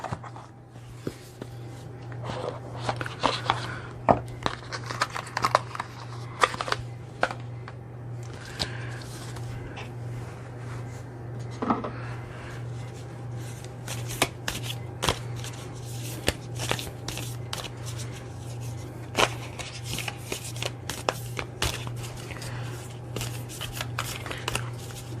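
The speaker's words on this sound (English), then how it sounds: "These are very hard to shuffle, so bear with me." A deck of stiff, hard-to-shuffle oracle cards being shuffled up close: irregular papery flicks, riffles and taps over steady low hum for a long stretch, with occasional sharper snaps of cards.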